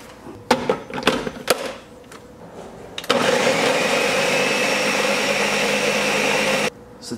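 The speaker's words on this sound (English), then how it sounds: "Let's get the blender set up." Blender mixing an oatmeal protein shake with oat flakes, a few short bumps and clatters as it is set up, then a loud steady whir for about three and a half seconds before cutting off abruptly.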